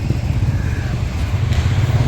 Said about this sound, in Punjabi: ਵੱਡੇ ਵੀਰ ਦਾ ਮੋਟਰਸਾਈਕਲ ਇਹਨਾਂ ਨੇ ਹੁਣ ਪਰਚੇਜ ਕੀਤਾ ਸੀ